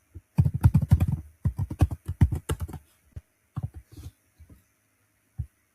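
A password being typed on a computer keyboard: quick runs of close, crisp key clicks in two dense bursts, then slower scattered single taps trailing off.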